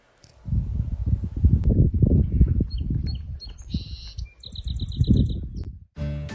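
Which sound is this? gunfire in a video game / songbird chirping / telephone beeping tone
songbird chirping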